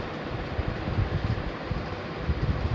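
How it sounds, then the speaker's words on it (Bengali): Strong wind buffets the microphone outdoors at the Taj Mahal in Agra, a steady close roar with low gusty rumbles throughout and no other clear sounds. "প্রচণ্ড হাওয়া দিচ্ছে এখানে"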